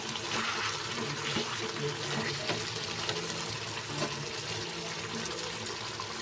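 Water pours steadily into a pan of korameenu (murrel) fish curry being cooked, a continuous close, splashing rush with no voices over it.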